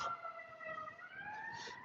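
An ambulance siren wails in the distance on a city street, with a steady rising tone that stays faint against background hum.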